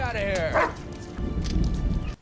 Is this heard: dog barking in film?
yes